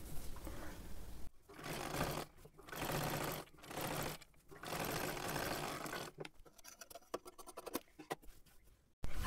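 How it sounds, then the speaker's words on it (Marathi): Sewing machine top-stitching close along the edge of a kurti, running in several steady bursts separated by short pauses, then lighter stop-start stitching toward the end; close and fairly loud, with no talking. "आता इथे एकदम कडेकडेला दापटीप मारून घ्यायची आहे"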